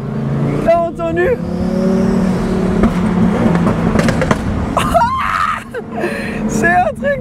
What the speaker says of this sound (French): T'entends les turbos, je sais pas si vous arrivez à bien l'entendre. Ça fait... Le bruit! T'as entendu?